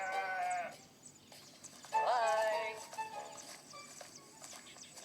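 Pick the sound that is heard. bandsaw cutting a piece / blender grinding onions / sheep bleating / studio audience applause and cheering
sheep bleating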